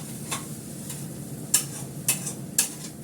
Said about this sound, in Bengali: ভালো করে হালকা হাতে নাড়তে হবে, তাহলে ল্যাটলাটাও হবে না, ঝরঝরে থাকবে আর কড়াতে আটকাবে না